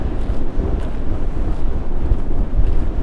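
Loud, steady wind buffeting the microphone with a low, rumbling roar throughout, in the Ahaggar mountains of Algeria.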